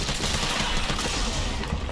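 Dense, continuous gunfire rattles through a Resident Evil 3 Remake fight, a loud unbroken fusillade of rapid shots with no pauses and no talking.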